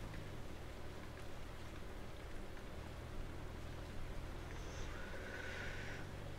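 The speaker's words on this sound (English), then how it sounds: "on your screen it's raining, on mine it's not" Steady, soft hiss of rain falling in the survival game Once Human, a continuous even wash of noise with no speech over it.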